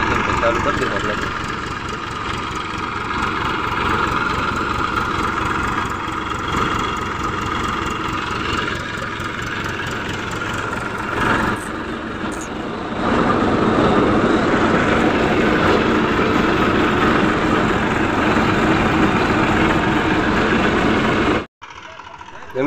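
A Ganesh thresher driven by a tractor engine is started and runs with a steady, loud low drone that thickens partway through and then cuts off abruptly near the end. Outdoors on a farm, with voices heard faintly at times.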